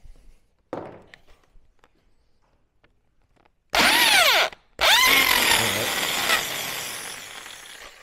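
Power drill boring an 8.5 mm hole through a motorcycle bracket, a loud whining drill run that stops briefly, then restarts and grinds on steadily, close by after a few quiet clicks.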